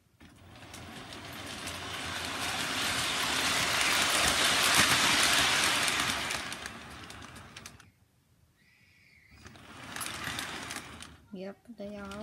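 A Lionel Hogwarts Express toy train with illuminated passenger cars runs in a bedroom, giving a steady rolling rumble and hum that swells and fades, followed by a brief lull, then more running noise and a few squeaky tones near the end.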